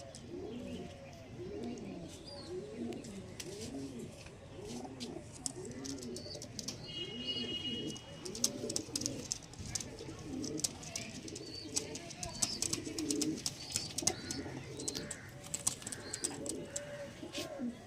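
Black Diamond pigeons coo in a slow, repeating rhythm close by, soft throaty calls rolling one after another, later joined by scattered chirps and light rustling clicks.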